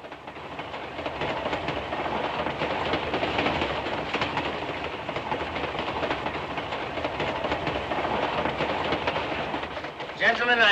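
A passenger train clattering steadily along the rails, a loud continuous rumble with rhythmic clicking of the wheels, with voices faintly audible beneath and a brief clunk near the end.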